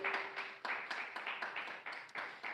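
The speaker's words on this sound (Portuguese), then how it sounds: "Palmas de vitória para Jesus esta noite." Church congregation clapping in a series of sharp bursts, moderately loud and close, with some crowd noise underneath and no clear speech.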